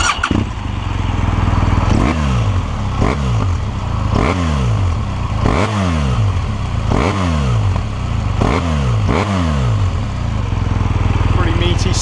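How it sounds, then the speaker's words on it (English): A BMW R1200R boxer-twin motorcycle engine idles with a deep, steady thrum, punctuated by about eight quick throttle blips, each a sharp rising rev that falls back down, close and loud. "Let's start it up."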